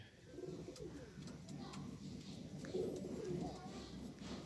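Soft, low cooing of a domestic flying pigeon in repeated rounded phrases, fairly close, over a murmur of background voices and faint chirps.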